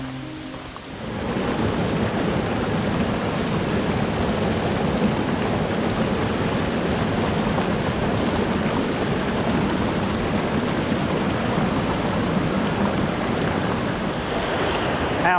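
A steady, loud rush of flowing river water along a forest trail to Triple Falls in western North Carolina fills the air after a brief quieter start, a constant broadband roar with no voices.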